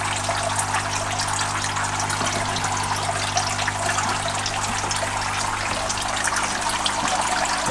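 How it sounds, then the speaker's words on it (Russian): Water runs in a steady, continuous stream at a crayfish farm, a close hissing trickle with a low hum underneath, no voices. "промываю водой"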